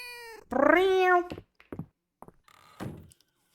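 A cat in the video game Fields of Mistria gives one rising, strained meow up close, followed by a few soft thunks and short chirpy noises with pauses between them.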